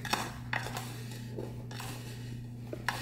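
Homemade laundry soap mixed by hand, washing soda stirred in with a scoop: light scraping, clinking and rattling strokes at close range, several soft knocks spread through a steady low hum, no talking.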